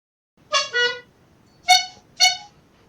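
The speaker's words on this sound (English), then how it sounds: "Oh, he's gonna get his clown horn, isn't he?" Four short, squeaky clown horn honks, a quick double honk followed by a pause and two more bright toots, with no talking.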